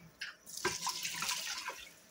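Tap water runs into a coffee mug in a home kitchen, a short steady splashing fill that begins abruptly and continues alone without talk.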